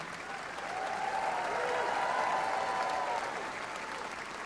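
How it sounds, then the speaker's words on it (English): Audience applause and cheering in the big ring at Crufts 2024 after the agility championship, a sustained wash of clapping that swells and eases, fairly distant, with a faint announcer's voice. "And should we give them a cheer?"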